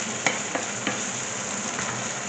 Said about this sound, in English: I'm just going to add in about half a can of chopped tomatoes